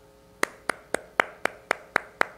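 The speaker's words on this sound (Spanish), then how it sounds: "aplauso para Luis Abinader" Hand claps in a steady, evenly spaced rhythm, about eight sharp claps close by, offered as applause for Luis Abinader, with no crowd wash around them.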